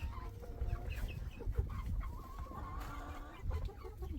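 Several chickens cluck and murmur nearby in a backyard coop in Mexico, soft overlapping calls with a few louder squawks, over a low rumbling background and no clear speech.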